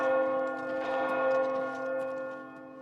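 Church bells in The Elder Scrolls IV: Oblivion Remastered ring loudly with sustained, shimmering overtones, a rich resonant peal swelling and fading over a few seconds.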